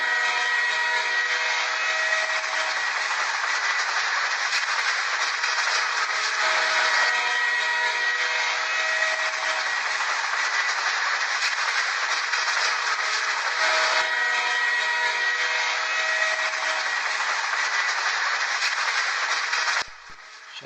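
Cartoon-style steam train whistle and rolling rail clatter as a train pulls into a station, a loud, steady sustained tone that holds for about twenty seconds before cutting off abruptly.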